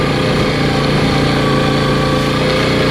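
A Yamaha Champ golf cart's small engine runs steadily and loud, close by, as the cart is driven, with a constant buzzing drone and no breaks.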